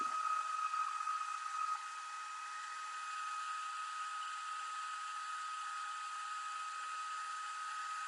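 A heat tool blows steadily over embossing powder, a constant fan whine and airy hiss with a sustained high tone, unchanging and fairly quiet throughout.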